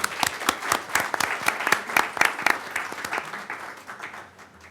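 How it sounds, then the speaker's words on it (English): Applause at a county board meeting: a modest group claps with distinct, sharp individual claps standing out in a steady patter that gradually softens toward the end. "Let's give her a round of applause."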